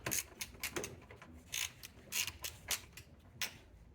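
Metal clicks and light ratcheting as 10 mm bolts are loosened from the hood latch of a 2016-2024 Mazda CX-9, a short run of faint, close, irregular mechanical ticks and creaks with no talking.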